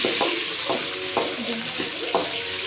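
A steady hiss of oil sizzles as a tempering of onion, carrot, green chillies and garlic fries for a sundakkai kara kuzhambu, with a spoon scraping and stirring the pan every half second or so.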